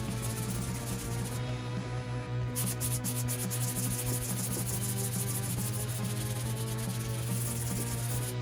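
80-grit sandpaper rasps by hand over body filler on a rusted Mazda 6, a steady rhythmic scratching with back-and-forth strokes under a constant low hum.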